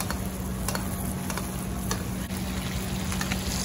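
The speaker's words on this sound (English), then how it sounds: "It's a really nice way to cook steak. There's no such thing as too much butter." Steak fries in plenty of butter, a dense, steady sizzle with faint crackles and occasional scraping taps from stirring or basting, close and loud throughout.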